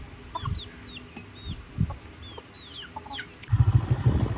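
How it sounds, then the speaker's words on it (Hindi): Japanese-breed chickens clucking in short irregular bursts outdoors, with high bird chirps scattered above, then a louder, denser stretch of low clucking and rustling near the end. "ये पाकिस्तानी नहीं जापानी मुर्गी है ये जापान की नस्ल है"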